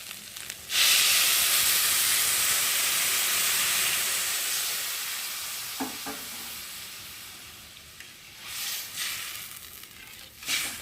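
Water poured into fried masoor dal in a pan sends up a loud burst of hissing sizzle that slowly fades, with a couple of faint utensil clinks and stirring scrapes near the end.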